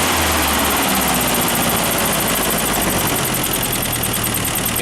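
A 1964 Land Rover engine, running after an ignition timing adjustment, roars loudly and continuously with a rough, rattly, dense tone throughout.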